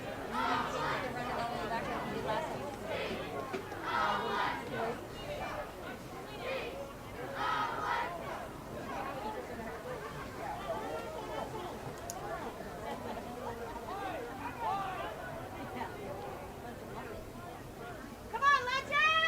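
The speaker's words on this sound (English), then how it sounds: "I will say this is the biggest parent crowd we have gotten this season" A parent crowd at a high school varsity football game, Legend versus Chaparral, murmurs and shouts in a broad, ongoing babble of voices, with a commentator talking over it throughout.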